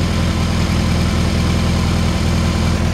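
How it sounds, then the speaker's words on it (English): A 1967 VW Beetle Convertible's freshly tuned engine idling close up, a loud, steady, even low putter with a constant rhythmic pulse, uninterrupted for the whole stretch. "Hey, listen to that engine."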